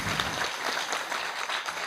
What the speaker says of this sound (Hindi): आप सभी से अनुरोध करूंगा कृपया इनका तालियों से स्वागत करें